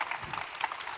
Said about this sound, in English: Notice that you get a clap every time you speak, too